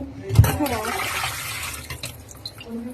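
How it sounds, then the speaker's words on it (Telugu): Tap water running into a sink while mangoes are washed by hand, a continuous splashing stream with a brief thump near the start, softening toward the end. "రెండు సార్లు కడగాలండి ఫస్ట్ మామిడికాయల్ని"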